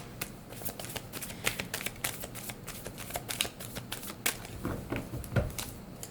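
Tarot cards shuffled for a reading, a steady run of crisp riffling and slapping cards with sharp bursts, close and continuous, with no talking.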